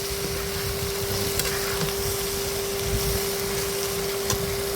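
Chopped tomatoes hit a hot frying pan and sizzle steadily, a dense, even hiss of frying that holds at moderate loudness throughout, with a constant tone running underneath and no talking.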